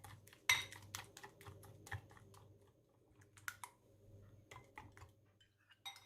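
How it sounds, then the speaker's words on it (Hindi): Salt, pepper and mixed herbs whisked together in a bowl, producing quiet, irregular clicking taps of utensil against the bowl that come in quick clusters with brief pauses. "और अब इन सबको अच्छी तरह से विस्क कर लेंगे"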